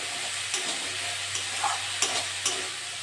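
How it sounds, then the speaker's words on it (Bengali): Spice paste of onion and tomato frying in oil for a fish chorchori, a steady moderate sizzle with periodic stirring scrapes and light taps of the spoon, close by and without voices. "ভালো করে মশলাটা কষে নেব"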